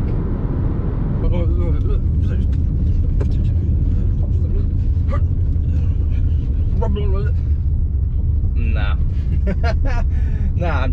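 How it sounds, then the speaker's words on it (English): Hyundai Santa Cruz pickup with an Eibach lift kit rolling over gravel, with a steady low rumble of road and tire noise throughout and a person talking over it. "let's go try driving some gravel and see what that feels like"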